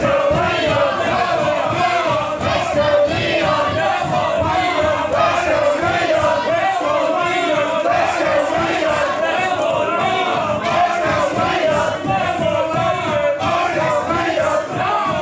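A wrestling crowd at a No Mercy Wrestling main event chants loudly and rhythmically, the chanting split between two sides, with pulsing repeated shouts sustained for the whole stretch and no clear single voice on top.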